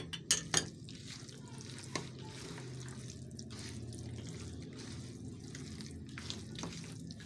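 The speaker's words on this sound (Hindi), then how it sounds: "इसको अच्छे तरीके से मिक्स कर लेते हैं।" Raw chicken being stirred by hand or spoon with ginger-garlic paste and green chilli paste for pakora, giving soft wet squelching and scraping in a bowl, with a few sharper clicks at the start and steady low movement throughout.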